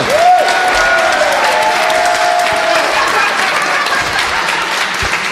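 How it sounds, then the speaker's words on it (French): Studio audience applause opening a talk show, loud sustained clapping with some cheering and a whistle-like tone rising near the start, then steady until the end. "sous les applaudissements du public"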